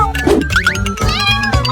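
Cartoon cat meowing in a kids' video game, several loud, close, drawn-out meows in quick succession over a low background hum.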